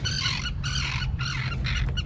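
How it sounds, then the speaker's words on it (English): Terns settled on a sailboat's dinghy give loud, harsh squawks in repeated bursts, close by, over a low rumbling background. "These are terns. They've settled on the dinghy."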